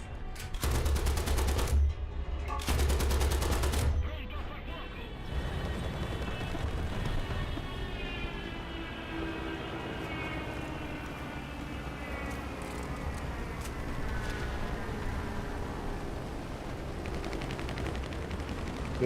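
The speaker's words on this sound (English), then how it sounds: "most of the Italian stuff is this Breda Mod 8 25 mil machine gun or 25 round machine gun" A Breda Mod 8 machine gun on an Italian aircraft in War Thunder fires two loud, dense bursts within the first few seconds, followed by a sustained engine drone with no further firing.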